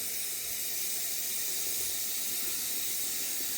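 Tap water runs from a kitchen faucet in a steady, close, hissing stream, with no break and nothing else heard.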